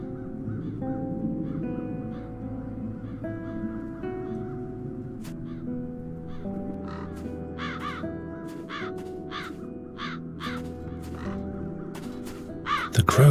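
Crows caw in a video game: a series of harsh, rhythmic caws, some loud and near, some softer, rise over a continuous low ambient music bed toward the end, with no talking.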